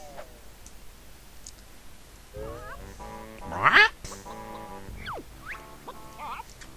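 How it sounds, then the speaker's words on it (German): A hen character in the video game Banjo-Tooie gives a burst of clucking, squawking game voice sounds, with one loud peak in the middle and brief clicks around it, over quiet background music. "Helga, die Henne."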